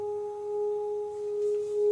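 A well-forged singing bowl resonates with a pure, steady, sustained tone and a fainter higher overtone, ringing continuously and close with a slight waver.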